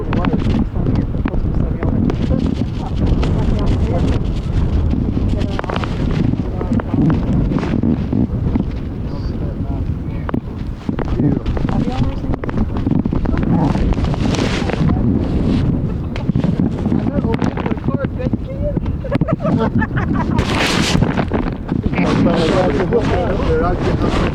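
Strong wind buffets the microphone outdoors by a rocky coast, a loud continuous rumbling roar with gusty surges throughout, while people talk underneath.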